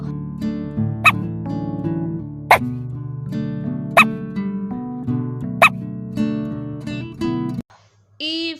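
A dog gives several short, sharp yips or barks at roughly even intervals over continuous music, and the music cuts out just before the end.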